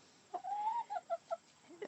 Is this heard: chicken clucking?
yes